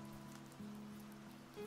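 Soft, steady rain falls in a faint, even patter, heard quietly and alone under a low background hum.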